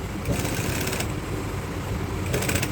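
Sewing machine stitching trousers, a fast continuous mechanical rattle of the needle running steadily, close and fairly loud, with brief shifts in pace.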